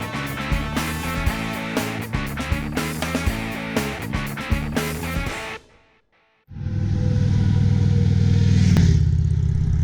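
A rhythmic mechanical clatter runs for several seconds, cuts out briefly, then a loud steady motorcycle engine drone rises and holds close by, on U.S. Highway 61.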